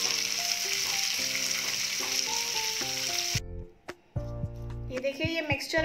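Onions sizzle steadily in a pan while cooking for a red chutney, under background music, then the hiss drops away briefly before stirring and a voice return.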